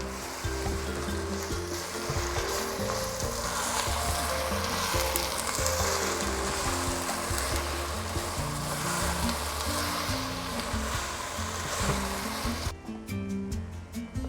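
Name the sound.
masala frying in a pot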